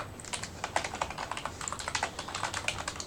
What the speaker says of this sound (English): I gotta fix some typing here.